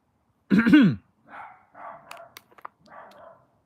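A man imitates a dog barking with his voice: one loud, rough growling bark up front, followed by several quieter yappy bark-like sounds and clicks, close and alone.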